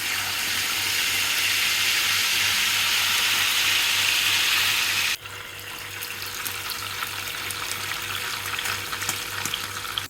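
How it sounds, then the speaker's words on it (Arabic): Fish, kingfish, frying in a pan with a dense steady sizzle that drops to a quieter crackle halfway through after the fish is turned. "بعد ما ينضج السمك من جهة نقلبه حتى ينضج من الجهة الثانية."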